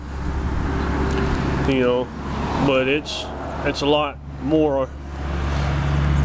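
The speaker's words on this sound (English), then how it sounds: "sorry about the traffic noise." Outdoor road traffic forms a steady low rumble of passing vehicles beneath someone talking close to the microphone, the hum persisting through the pauses in his speech.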